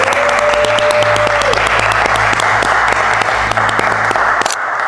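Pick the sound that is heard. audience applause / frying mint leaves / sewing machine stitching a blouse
audience applause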